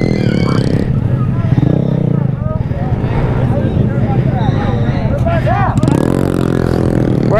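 A pit bike engine runs steadily with some clatter while riding on a trail on a jungle ride between Fort Worth and Dallas. Someone talks loudly over the engine for most of the clip.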